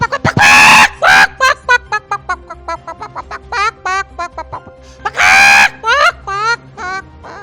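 A man imitates a rooster crowing with his voice, two loud drawn-out crows opening and near the middle, separated by a rapid series of clucking, chattering calls, close and clear.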